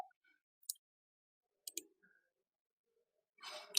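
A computer mouse gives a few sharp, faint clicks: a single click, then a quick double click, set against near silence with a brief rustle at the end.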